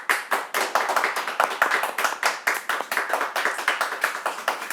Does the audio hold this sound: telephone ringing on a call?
no